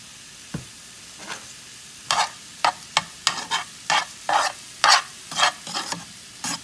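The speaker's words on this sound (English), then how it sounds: "We have our shrimp sizzling." Shrimp sizzles and crackles in a hot pan, with repeated bursts of scraping and stirring in an uneven rhythm, close up and fairly quiet, no talking.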